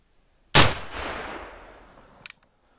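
A single loud close gunshot cracks out while hunting grouse outdoors, followed by a long fading echo and a brief faint click near the end.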